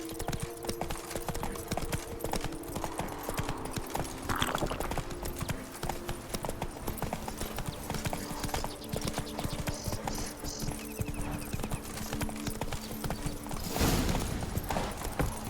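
Hooves of a horse in The Witcher 3 clip-clop in a steady walking rhythm throughout, set over game ambience and music, with a brief louder burst near the end.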